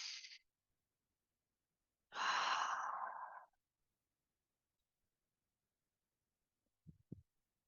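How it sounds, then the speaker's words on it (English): A single full, deep breath drawn in during a mobility flow session, a long, close, breathy inhale standing out against silence, with a couple of faint soft thumps near the end. "Let's take a full breath in"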